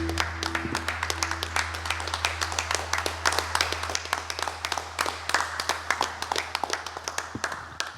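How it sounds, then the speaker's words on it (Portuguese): A church congregation claps for Jesus during a Sunday service, a sustained, fairly distant applause of many hands with irregular sharp claps, a low hum beneath. "pode dar uma salva de palmas a Jesus"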